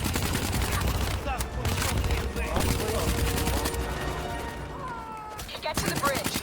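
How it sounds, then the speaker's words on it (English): Rapid automatic cover gunfire in the shooter game Black Ops 3 rattles loudly and almost continuously in dense bursts, with battlefield noise and a voice speaking briefly amid the shots. "Give me some cover fire."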